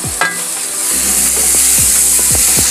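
Chopped onions and red chilli fry in hot oil with a loud, steady sizzle close by, and a few scraping stirs run through it.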